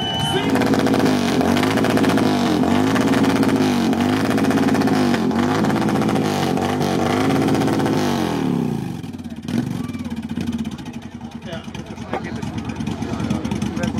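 A motorcycle engine revs loudly at a bikers' rally in Jēkabpils with a wavering, repeating rise and fall, then drops away as crowd noise and voices take over.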